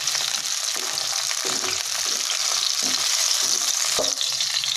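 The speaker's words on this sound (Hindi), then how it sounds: "टमाटर को भी हम फ्राई करेंगे।" Tomatoes frying with browned onions in a pan, a steady close sizzle with intermittent stirring scrapes, with no talking.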